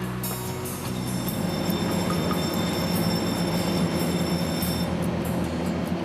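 A train running on a Taiwanese railway line, with a steady loud rumble of wheels and carriages and thin high squealing tones throughout, with no voices.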